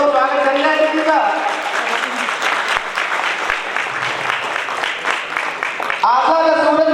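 Applause from a crowd at a birth anniversary celebration in Kaimganj fills the middle, loud sustained clapping between stretches of someone speaking before and after.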